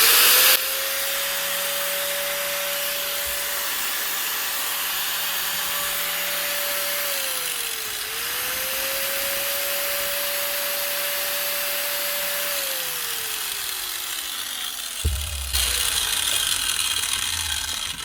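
An old Makita N910 angle grinder with worn gears runs steadily with a whining hum and rough mechanical rattle, briefly dipping in pitch twice before winding down near the end.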